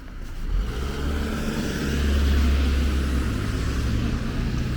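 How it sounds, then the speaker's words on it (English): A car passes along St. Clair West, a Toronto street, at sunset, its tyre and engine rumble swelling to a peak then easing as it slows, moderately close and continuous, with no talk. "The car slowed down for the squirrel."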